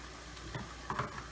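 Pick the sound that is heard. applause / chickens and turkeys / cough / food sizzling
food sizzling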